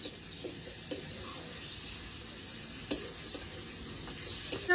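Spices with two medium chopped tomatoes and salt sautéing in oil in a pan for a lentil fritter curry, a steady soft sizzle with occasional scraping stirs and small clinks of the spatula, fairly quiet and close.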